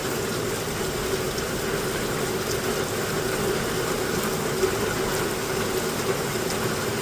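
Rain pours steadily during the rainy season in Ghana, a dense, constant hiss with faint occasional drips, even in loudness throughout and with no voices.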